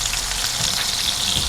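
Steak frying in butter with a garlic clove in a hot pan, a dense continuous sizzle close by with soft low bumps underneath and no talking.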